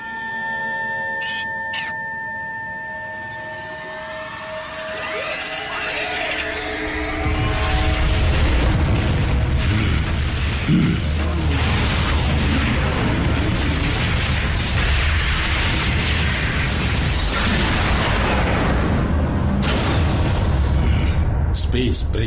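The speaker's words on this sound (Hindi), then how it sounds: "स्पेस ब्रिज पर हुआ धमाका" A huge rumbling blast of an explosion on a space bridge in the animated series Transformers Prime builds and roars on, a sustained wall of explosive noise with crackling bursts, after a quieter humming stretch.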